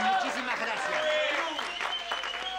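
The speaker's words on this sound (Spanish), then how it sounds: "Fuerte el aplauso para los hermanos peruanos" Studio audience applause on a 1996 television variety show, a dense, steady wash of clapping from a crowd that carries through the whole moment while a presenter talks over it.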